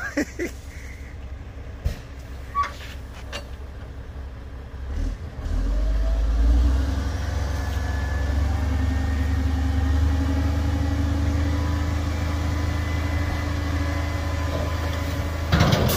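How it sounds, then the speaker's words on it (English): A dump truck releases a load of dirt onto a residential lot: a few scattered knocks, then a sudden, loud, sustained low rumble of engine and sliding soil that lasts through the rest of the clip. "we're making the drop with the dirt on lot number 92"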